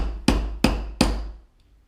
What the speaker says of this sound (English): So a leather mallet and the anvil